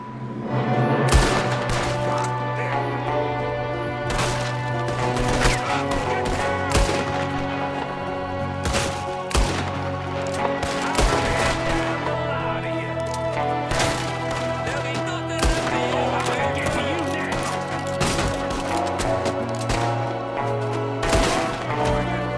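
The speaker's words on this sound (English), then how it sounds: "There's another one shooting from the window." Gunfight in Red Dead Redemption 2 with a gunman shooting from a window: repeated loud, sharp shots in irregular bursts over a tense orchestral music bed, fairly close, no voices.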